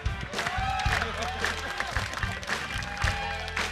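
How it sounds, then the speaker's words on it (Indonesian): Applause and cheering from a studio audience at a comedy show, steady clapping with a crowd murmuring, while a host keeps talking over it. "Tepuk tangan, tepuk tangan."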